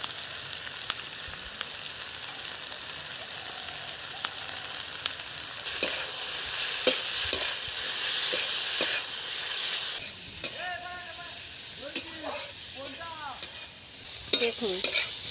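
Potatoes and spices stirred and fried in a pan, with a loud steady sizzle broken by scraping stir strokes, and a voice speaking briefly near the end.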